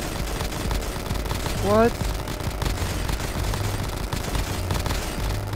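Automatic weapon fire in Black Ops Zombies, a steady rapid rattle of shots underneath game noise, with a brief rising whoosh and a player's voice talking over it.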